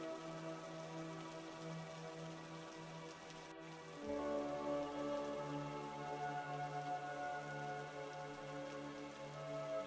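Rain falls outside at night, a steady soft patter on surfaces that carries on unbroken, with a low background hum that grows a little louder partway through.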